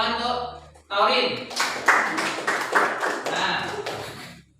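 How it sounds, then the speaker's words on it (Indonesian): A classroom group at a primary school teacher-training lesson claps rhythmically in a series of sharp, evenly spaced claps, with voices speaking and chanting along over the claps. "Ya, tepuk tangan untuk Taurin."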